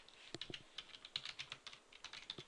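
Fingers type C++ code on a computer keyboard in quick irregular clusters of light key clicks, faint and close, with no speech.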